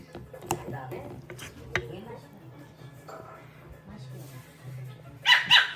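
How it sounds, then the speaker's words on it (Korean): A dog barks a few times in a camping setting during a winter campout, short sharp yaps scattered under close-up talk, cooking clatter and background hum, with a louder burst near the end. "왜 짖냐?"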